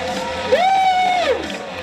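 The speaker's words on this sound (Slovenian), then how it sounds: "Dajmo jim zaploskat, ne?" Crowd cheering and whooping outdoors at a New Year's sea jump, with one voice holding a long rising-falling shout over the broad crowd noise, fairly loud and close.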